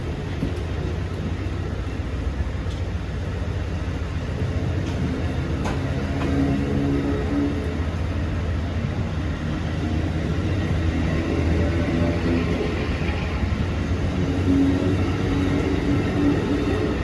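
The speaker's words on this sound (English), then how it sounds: "one more train, VRE train 309" A VRE commuter train passes through Fredericksburg on a cold, rainy afternoon, a steady broad low rumble and roar holding for the whole stretch without a clear rise or fall, with no talking.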